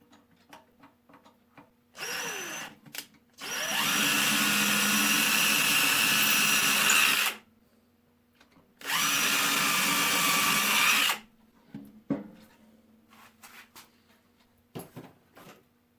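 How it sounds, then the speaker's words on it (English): Two sustained, loud whines of a power drill boring holes for a wind-resistant picture hanger on a side porch, each running several seconds, with short trigger blips and clicks and handling noise between them. "I want to drill 2 holes, one on the either side of where the nail is going to be"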